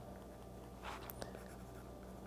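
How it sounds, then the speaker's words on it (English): A pen writing a mantra by hand on paper, with a short burst of scratchy strokes in the middle against a quiet, faint background. "I'll write it down here."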